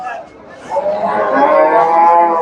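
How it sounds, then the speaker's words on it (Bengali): A Friesian dairy cow moos at a busy cattle market, one long, loud, drawn-out call that swells and holds close by, with faint crowd chatter underneath. "এটা মাশাআল্লাহ অনেক সুন্দর একটা গাভী"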